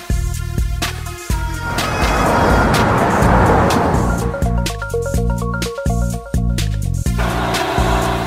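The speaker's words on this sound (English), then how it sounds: "This is a police tow van." Cartoon police tow van engine roars in a loud, continuous rush of noise, with clicking and tonal blips layered over it, closely heard with no voices.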